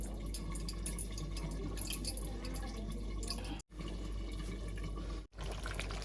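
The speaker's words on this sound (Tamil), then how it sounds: "இப்போ வந்து தேசி புளியையும் விடுவோம்" Lime juice poured into a pot of beef curry, a steady close trickling, dripping liquid sound running continuously with two brief gaps, no talk.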